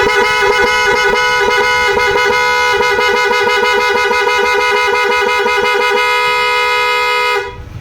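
PIAA horn fitted to a Honda Click 125i scooter honks loudly and continuously with a rapid pulsing warble for about seven seconds, then cuts off abruptly, with no talk over it.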